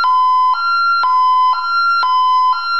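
A Honeywell alarm siren sounding for a zone 2 alarm, a loud, close two-tone electronic wail that switches pitch in a regular half-second rhythm throughout.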